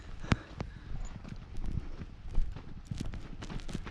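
Donkeys walk on desert soil with their hooves clopping in a steady, uneven patter at close range. Occasional sharper knocks stand out among the softer steps.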